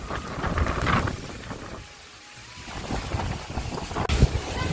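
Strong storm wind gusting hard enough to blow chairs away, roaring and buffeting a microphone in uneven surges that dip briefly midway before building again, with a sharp knock near the end.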